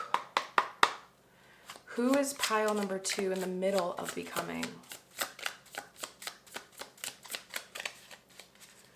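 A deck of tarot cards being shuffled by hand, a rapid series of sharp riffling taps and snaps at the start and then steadily through the rest, with a person speaking over the early part.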